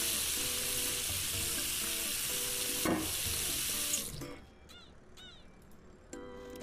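Tap water runs steadily into a big pot for boiling potatoes in the Cooking Simulator video game, a broad continuous rush that cuts off about two-thirds through, leaving quieter kitchen clinks and faint sizzling.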